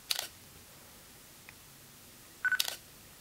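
A Nikon V1 mirrorless camera fires its mechanical shutter twice, each a soft, quick pair of clicks separated by a couple of seconds of near silence, close and quiet.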